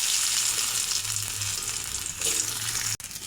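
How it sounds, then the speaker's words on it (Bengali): Potatoes fry in mustard oil with a dense, steady hiss up close, a faint stir or two beneath, ending in a brief abrupt cut. "এবার আলুগুলো ভেজে নেব।"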